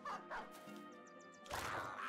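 Dog in the video game Battle Brothers barking: a couple of short, sharp barks near the start, then a sustained tonal sound with faint chirps, ending in a louder noisy burst; fairly quiet overall.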